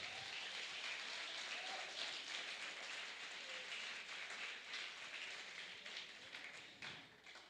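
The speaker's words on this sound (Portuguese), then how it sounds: "Você pode glorificar o Senhor com as suas palmas" Congregation clapping hands in praise during a Portuguese-language church service: very faint, distant and continuous patter of many hands, with no talk.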